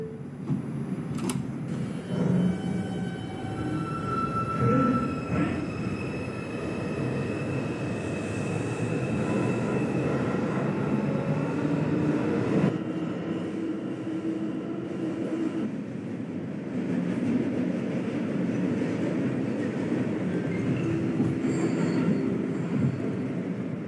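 An Eastchester-bound 5 local NYC subway train, an R142, runs with a steady loud rumble and rattle, with occasional high wheel squeals and no voices.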